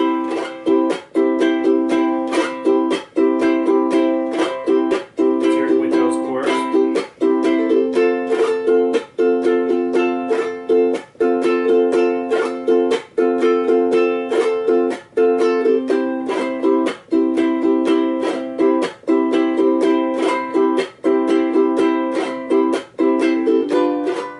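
A ukulele strummed steadily in a repeating down, fan strum, up, chuck pattern, with crisp muted chucks cutting through at regular intervals; close and loud, no voice.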